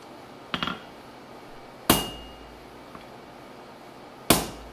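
A hammer striking a hot metal bit at a forge, three sharp separate blows ringing out over a low steady background hum, spaced a second or two apart with no talking.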